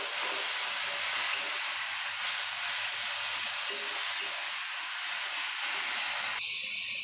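Pumpkin leaves hiss and sizzle steadily in a hot pan, salted and seasoned with turmeric, a loud, continuous broadband frying sound that runs for several seconds before it abruptly drops away, with no talk.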